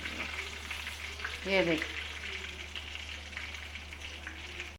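Egg koftas for nargisi kofta deep-frying in oil in a kadhai, a steady soft sizzle and crackle running throughout, with a brief voice speaking over it partway through.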